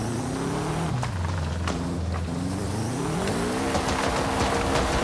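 A 1973 Volkswagen Thing in a driving game revs and shifts through gears, its engine note climbing and dropping repeatedly, with a brief tire squeal as it drifts; close, loud and steady.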